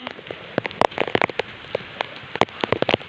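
Heavy rain pours down outdoors, a dense hiss broken by many sharp, close drops and splatters landing irregularly on surfaces, loud and continuous with no voices.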